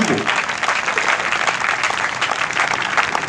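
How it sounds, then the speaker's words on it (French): A church congregation at a healing service bursts into sustained, dense applause and cheering that fills the room at a steady, loud level throughout. "Si tu crois que tu vas recevoir ton miracle ce soir, acclame encore le Seigneur très fort."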